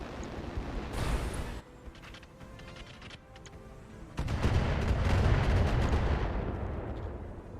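Artillery fire in the BattleTech mod Roguetech, with deep booming impacts and a long rumbling barrage swelling in the second half, mixed with sharper clattering shots and game effects.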